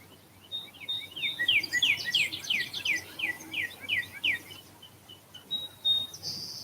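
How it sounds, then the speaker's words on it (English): A small bird calls from a little tree in a neighbor's yard at a cloudy summer-solstice sunrise, giving rapid trilling chirp series, a few phrases in a row with brief pauses, clear and moderately close. "I think there is a bird in that tree."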